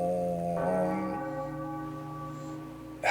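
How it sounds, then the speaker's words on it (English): A bell in The Legend of Zelda: The Wind Waker HD rings with a sustained, resonant tone, struck again partway through and left to hum and fade, loud and close with no talking. "It's a bell, so I'm thinking it dings."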